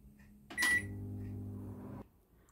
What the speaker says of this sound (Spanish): dos minutos ahora al microondas sin tapar a 800 vatios de potencia